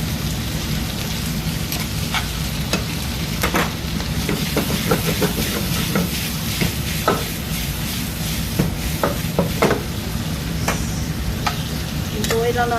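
Half a kilo of tomatoes sizzles steadily in a pan, cooked for a dried fish dish, with a continuous crackling hiss and scattered clicks and scrapes of stirring, close and moderately loud.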